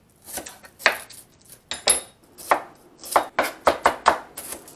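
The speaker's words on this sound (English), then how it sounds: "I'm just gonna chop the onions." Knife chopping onions on a cutting board, a run of sharp, irregular close-up chops that quicken into a brisk burst near the end.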